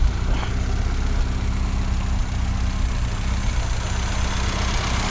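A 1974 Fiat 124 Spider engine idles smoothly and steadily nearby, a low, even rumble with a regular pulsing beat and no voices.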